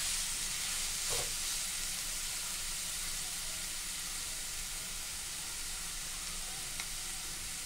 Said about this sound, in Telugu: ఇవి బాగా డ్రై అయ్యే వరకు వేయించకూడదు, చక్కగా కచ్చిపచ్చ వేయించుకోవాలి లైట్గా.